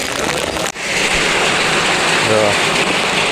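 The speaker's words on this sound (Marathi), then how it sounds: "आता पाऊस बघा किती जोरात" Heavy monsoon rain pours loudly and steadily in a flooded Mumbai street during a red alert, a dense continuous roar with one brief dip near the start.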